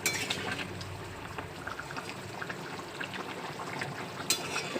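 A pan of soybean curry in watery gravy simmers quietly, with faint bubbling and small clinks close by, soft and steady throughout without talk.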